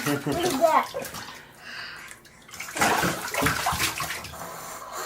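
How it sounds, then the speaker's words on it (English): A young child splashes bath water in a filling tub, bursts of sloshing separated by a short lull, with adult voices talking over the splashing. "Can you splash?"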